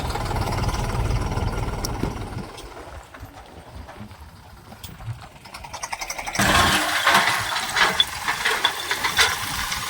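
A tractor engine rumbles low and steady, then grows louder and rougher as it picks up, with a dusty mechanical clatter throughout.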